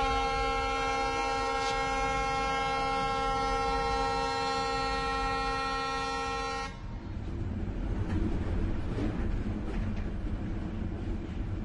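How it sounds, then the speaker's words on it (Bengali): Kamrup Express train departing a platform: a long, steady multi-tone horn blast for about six seconds, then cut to a continuous rumbling clatter of the moving train, close and fairly loud. "ঠিক 6:30 ট্রেন ছেড়ে দেয়।"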